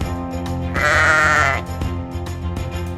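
One drawn-out sheep bleat, loud and close, wavering for under a second over a quiet background of steady tones and a few soft knocks.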